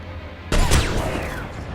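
Gunfire from a shooter video game hits a shielded enemy: an abrupt loud burst of shots erupts over a low hum and trails into a rough, ringing decay, close and intense.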